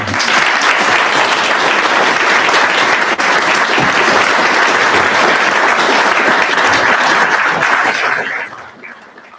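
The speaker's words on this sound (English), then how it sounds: "Let's now give one last round of applause to all our recipients for today." A sustained round of applause from the audience at a Government House investiture ceremony, honouring the day's recipients; dense, steady clapping for about eight seconds before tapering off near the end.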